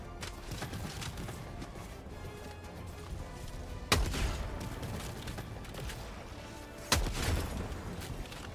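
Gunfire in a video game of battling automatons: two sharp, loud shots about three seconds apart stand out over a steady din of game noise and rumble, with no talking.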